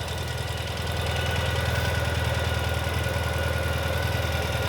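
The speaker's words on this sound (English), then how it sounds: "And now let's start it up. Turn on the ignition. And it just fires right into life." Engine of a 2019 Ural Gear Up sidecar motorcycle idling close by, a steady, even low-pitched chugging with a regular pulsing beat that holds throughout, with no voices.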